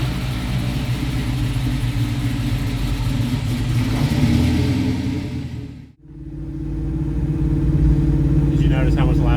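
Supercharged 1968 Chevrolet Camaro with a 5.7 V8 revving loudly with a prominent intake roar, running steadily except for one brief dip about two-thirds of the way through.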